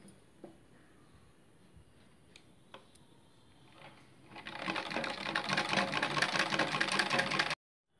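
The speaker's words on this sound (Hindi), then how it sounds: "इसकी हम सिलाई करेंगे।" A sewing machine stitches a blouse back neck: after a few quiet clicks and handling sounds, the motor starts and runs in a loud, steady, rapid chatter for about three seconds before stopping abruptly, with no talking.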